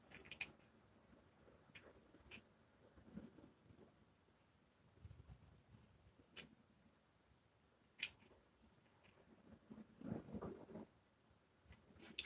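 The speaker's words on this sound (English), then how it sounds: "You got to get this point of your scissors right underneath the hair, right underneath it." Scissors trim a mustache up close, giving a few sparse, crisp snips separated by quiet pauses, with faint rustling between cuts.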